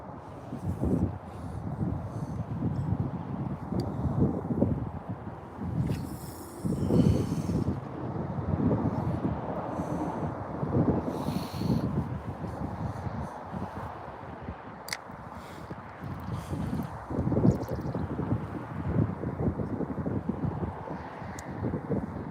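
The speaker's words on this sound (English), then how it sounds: "Wind's starting to pick up again." Gusting wind buffeting the microphone beside a river during steelhead fishing, a low rumbling roar that rises and falls in uneven surges, close and steady, with faint rustling and no voices.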